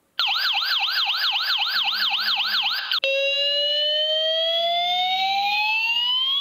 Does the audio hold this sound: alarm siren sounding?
yes